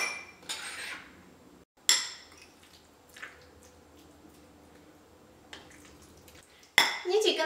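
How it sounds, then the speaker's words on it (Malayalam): Chicken being mixed by hand in a bowl with ginger powder and salt, giving a few sharp clinks of utensils against the bowl and soft wet squelching, with quiet gaps between the bursts. "ഇതെല്ലാം കൂടിയിട്ട് നന്നായിട്ടൊന്ന് മിക്സ് ചെയ്യാം"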